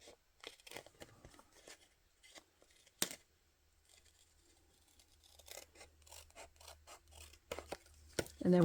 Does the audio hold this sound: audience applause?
no